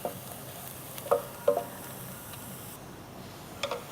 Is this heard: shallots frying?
yes